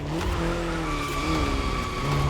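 Car braking hard in the racing game The Crew Motorfest, tires squealing in a sustained whine over a steady engine drone for about two seconds, loud and close.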